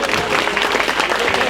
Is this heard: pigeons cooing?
no